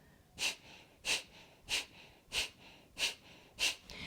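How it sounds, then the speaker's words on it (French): Six sharp, forceful breath exhalations through the nose, spaced roughly evenly about every 0.6 seconds, from a dynamic yoga breathing exercise in which the navel is pulled toward the spine; close and breathy, with no talking. "J'expire de manière dynamique, je viens plaquer mon nombril vers ma colonne de cette façon."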